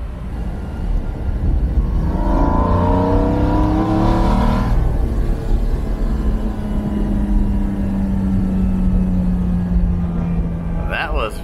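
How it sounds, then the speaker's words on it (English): A widebody Acura NSX sports car drives along with steady engine drone and road noise from inside, the pitch rising and falling as it accelerates, then a long even hum. "we're gonna have some fun once we get to Quang's house driving the NSX"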